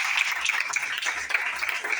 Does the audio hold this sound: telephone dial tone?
no